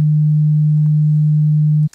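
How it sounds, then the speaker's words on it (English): A steady pure sine tone from a Eurorack synthesizer module, fed straight into an audio interface, holds loud and unwavering for nearly two seconds before cutting off abruptly. "the green sine wave"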